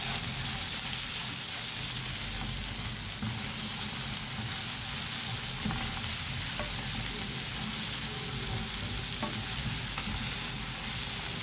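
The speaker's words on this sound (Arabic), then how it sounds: "عندي معلقه كده من الصلصه هنزل بيها اهي." Tomato sauce sizzles and fries in a pan with potatoes for meatless Egyptian moussaka, a steady, loud crackling hiss running throughout with a few faint stirring clinks.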